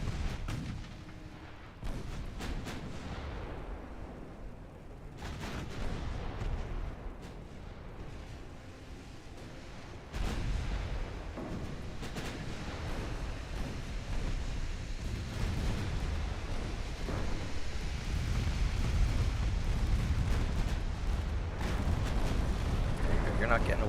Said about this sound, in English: How about we have the main gun start firing armor piercing?